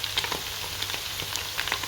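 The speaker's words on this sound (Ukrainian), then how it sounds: "На обід смажу ікру з баклажан." Eggplant sizzles and crackles steadily in a hot frying pan, with scattered sharp pops over a continuous hiss.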